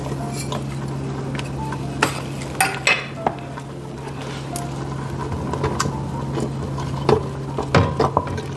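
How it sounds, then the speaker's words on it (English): Spoon clinking and scraping in a pot on low heat while stirring tapioca flour and non-dairy milk into a thickening pudding, with scattered utensil taps and light clatter over a steady stove hum. "And I want to continue stirring."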